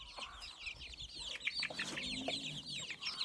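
Bantam hens clucking close by in a farmyard pen, a busy run of short overlapping clucks and chirps over light outdoor background noise.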